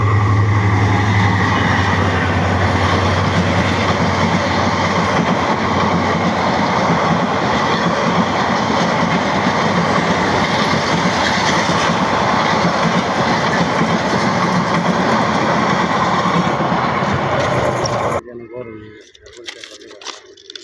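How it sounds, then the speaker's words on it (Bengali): A train rolls past on railway tracks beside a canal-bank road, a loud, steady rumble and clatter that holds for about eighteen seconds before cutting off abruptly. "ট্রেনটা একটু দেখাই দিই না।"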